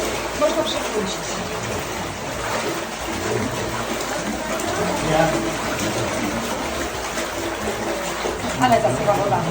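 Water rushes and splashes steadily throughout, a broad continuous flow close by, with a few people talking faintly in the background.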